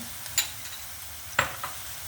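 Tomato paste fries with onions and garlic in a pot, a quiet sizzle broken by two distinct scraping stirs of a spoon about a second apart.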